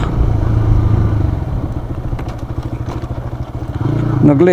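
A motorcycle revs and labours at the start of an off-road hill climb on a hillside in Hassan, Karnataka, its engine chugging in a fast rhythmic pulse close by, with people talking over it.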